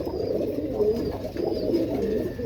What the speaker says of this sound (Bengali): এই যে কবুতর এই যে আমি সব কবুতরগুলো একটু দেখাই